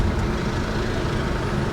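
Traffic from other cars heard through an open window while riding in a Jeep Renegade hybrid, a steady broadband roadway rumble with no distinct events.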